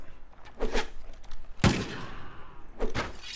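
Matchlock gunfire in the Mount & Blade Gekokujo game: a few scattered gunshots, one loud sharp blast in the middle, with softer thudding reports before and after it.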